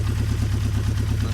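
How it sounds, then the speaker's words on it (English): A Honda CB550 K3 classic motorcycle engine runs steadily at idle, a close, even low-pitched pulsing throb with no voices over it. "engine sounds sweet as anything"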